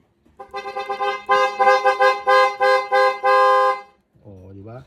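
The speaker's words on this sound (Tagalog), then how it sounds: "Tapos busina ni Bossing." A Mitsubishi Lancer's horn honks repeatedly, a run of short toots followed by longer blasts, loud and near, with a brief voice at the end.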